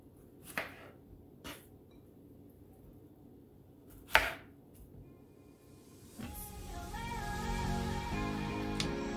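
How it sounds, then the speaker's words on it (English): A knife chopping fresh strawberries into bite-sized pieces, with three sharp, separate cuts against a board, followed by a louder, steady rustling and handling noise. "So I can chop up some fresh strawberries. I like to chop these up in little bite-sized pieces."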